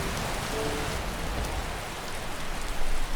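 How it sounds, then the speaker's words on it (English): Steady rainfall in Skyrim with the Paradise Weathers mod, a dense broadband hiss of drops on surfaces that holds evenly throughout and swells slightly near the end, with no voices. "Let's see if we get a different rain"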